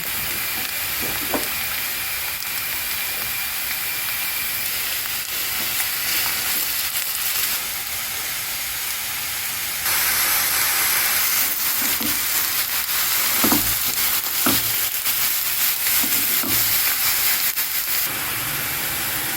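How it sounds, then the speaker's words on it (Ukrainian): Mushrooms fry with onions in a pan, a loud, continuous close sizzle and hiss with occasional stirring scrapes and clicks, growing a little louder partway through, with no one talking. "гриби додаємо до цибулі і обсмажуємо їх разом із цибулею"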